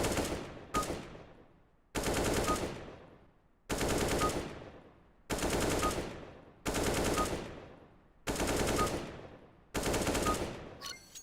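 Bursts of automatic gunfire from CS:GO aim training, about seven short volleys at a regular pace, each fading into a decaying tail before the next, loud and without talk.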